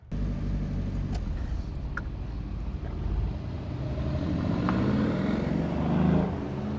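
Toyota Tacoma pickup with Dobinson suspension driving, a continuous engine and road rumble from inside the cab that shifts in pitch as the truck accelerates, with occasional faint knocks and no talk.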